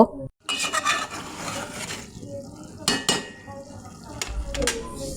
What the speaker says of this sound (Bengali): নেড়েচেড়ে কিছুক্ষণ চুলার তাপ হাইতে রেখে আমি ভেজে নেব